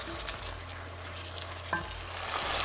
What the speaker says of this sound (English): Combine all your ingredients and you're going to continue to cook for about 6 to 8 minutes